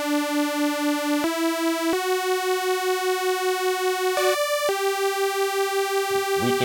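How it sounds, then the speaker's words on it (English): Two detuned saw waves from the Serum synth play a series of held tones that step between pitches, with a bright buzzy timbre and slight phasing, steady and alone. "identical but yet detuned from each other saw waves"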